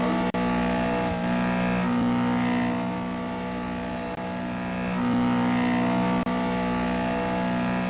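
A car revs and accelerates for a big jump in the Roblox video game, a loud continuous engine drone that holds steady with slight swells in pitch, with no speech over it.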